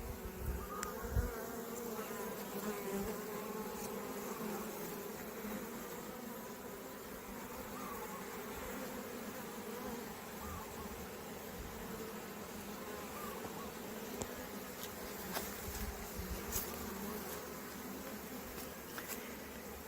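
Honeybees drone at a honeybee sanctuary in a continuous, dense buzz that holds steady throughout, with individual bees flitting close by now and then.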